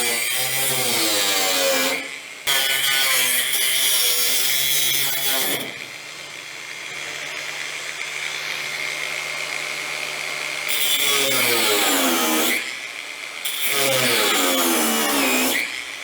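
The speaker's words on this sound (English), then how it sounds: "I've just cut these bolts right off, almost flush with the head" A saw grinds steadily through metal bolts, cutting them almost flush with the heads, for several seconds, loud and close, with brief pauses between longer cutting passes.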